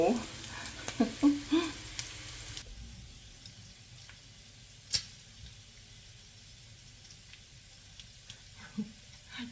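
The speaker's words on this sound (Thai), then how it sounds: "ทอดหมู" Pork frying in a pan gives a soft, steady sizzle for the first few seconds, then fades to a quiet background with occasional small clicks, while someone speaks intermittently nearby.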